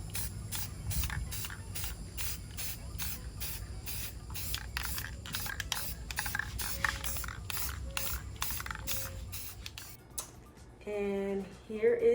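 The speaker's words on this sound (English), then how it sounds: "I'm going to spray paint it black" Aerosol spray paint hissing in repeated short bursts as furniture hardware is coated matte black, close and steady, ending with a brief spoken voice.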